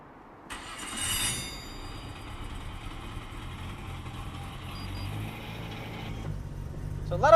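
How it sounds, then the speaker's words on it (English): Nissan Skyline R34 GT-R Mines engine starting up, a quick cranking burst followed by a steady idle that continues quietly, ending with a louder thump. "Would you like to start up the car now?"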